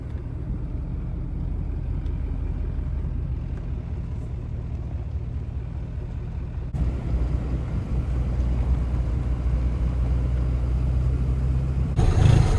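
A water truck's diesel engine turns over and settles into a steady, loud low rumble, with a sharp shift in tone partway through as it revs and runs on at a motocross track.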